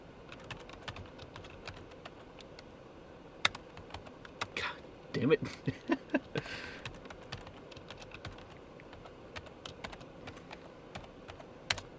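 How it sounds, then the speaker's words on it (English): Someone types on a computer keyboard, producing scattered clicking keystrokes in irregular bursts with a denser flurry midway, while a voice briefly curses under the tapping. "My fingers are too fat for the fucking keyboard."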